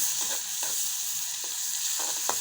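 Garlic and onion frying for tempering dal, a steady soft sizzle with occasional stirring scrapes over it.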